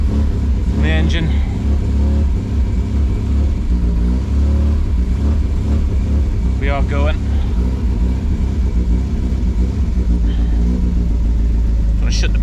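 Triumph Spitfire 1500 engine running loud and close on full choke with throttle applied, a constant rough idle rumble with several brief revs rising out of it, someone talking over the engine.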